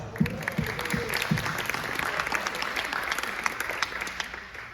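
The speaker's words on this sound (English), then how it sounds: "Yeah, round of applause." An audience at a nutrition talk gives a round of applause, moderately distant and steady, with a few low thumps or voice bursts near the beginning.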